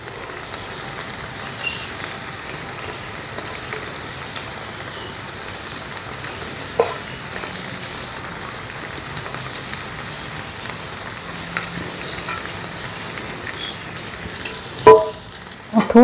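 Chicken topped with mozzarella cheese cooking in a pan over a very low flame, a soft steady sizzle and crackle throughout with occasional small pops and a brief clatter near the end.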